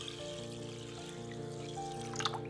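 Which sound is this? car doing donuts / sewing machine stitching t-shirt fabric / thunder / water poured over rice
water poured over rice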